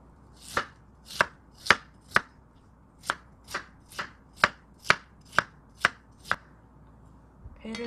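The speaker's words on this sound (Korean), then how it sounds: "배를 이렇게 잘게 썰어요." A knife finely chopping Korean pear on a cutting board, about twelve crisp, evenly spaced chops, close and clear against a quiet background.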